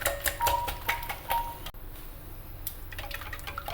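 A whisk beats a runny, crepe-like flour batter in a bowl, giving quick, rhythmic wet strokes close up, with a short pause midway before the beating resumes.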